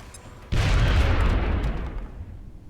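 A grenade goes off in the strategy game XCOM: Enemy Within, a sudden loud, deep blast that rumbles and fades over a couple of seconds.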